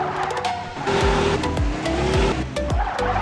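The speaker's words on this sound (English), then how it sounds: "Look at the backfires." Engine revving in Farmhouse Car Simulator 2, a lowered right-hand-drive JDM car, with repeated sharp exhaust backfire pops and crackles over loud engine tone and tire squeal, close and continuous.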